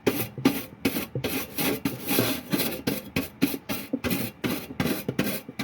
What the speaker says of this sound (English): You just go around and scratch off, get rid of all the old stuff like that, make a clean surface for your new putty.